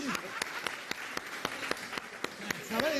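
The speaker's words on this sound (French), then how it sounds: "On applaudit." An audience breaks into scattered applause, sharp separate claps spaced out in rhythm, moderately close, with a voice speaking over them.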